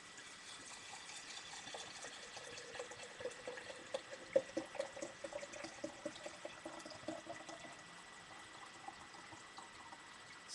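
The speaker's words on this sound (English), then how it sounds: "Now I'm going to add some locally harvested spring water that I collected." Locally harvested spring water is poured into a jar of Himalayan salt, a faint, steady trickle and splash with small irregular glugs, quiet and close with no talking.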